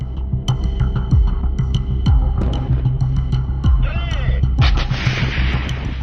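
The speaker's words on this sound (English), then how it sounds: "came under intense and highly accurate fire from Ukrainian artillery" Ukrainian artillery fire pounding advancing armored vehicles: repeated heavy booming thuds and throbbing low rumbles, loud and close, with a steady droning hum underneath.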